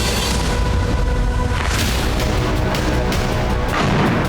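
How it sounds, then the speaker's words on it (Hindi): Missile explosions in Kyiv during Russian strikes make a loud, continuous roar of heavy booming rumble that never lets up. "कीव में रूस ने एक के बाद एक कई मिसाइलों से धमाके की।"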